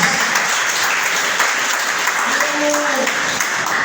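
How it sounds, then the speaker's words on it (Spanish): Steady applause from a church congregation fills the space at close range, dense and continuous, with a few voices calling out briefly underneath near the end. "Denle un aplauso a Jesucristo."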